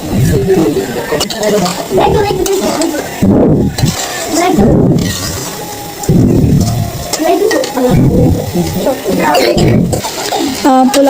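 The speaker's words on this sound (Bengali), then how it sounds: "এখন পোলাও ভালো মতো নেড়ে দিচ্ছে" Pulao rice stirred and fried in a pot, with sizzling and scraping of the spoon in bursts, close and loud, while a person talks over it.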